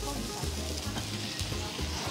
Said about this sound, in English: I think I hear some sizzling coming already.